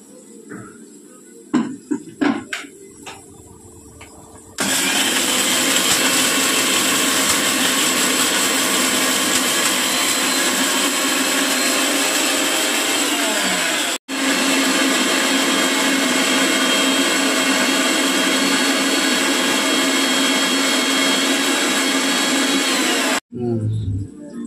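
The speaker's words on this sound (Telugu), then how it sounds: "మిక్సర్లో వేసుకున్న మసాలా." A mixer grinder grinding masala for chicken curry, a loud continuous whirring motor roar running for most of the stretch with one brief stop, after a few clunks and knocks at the start.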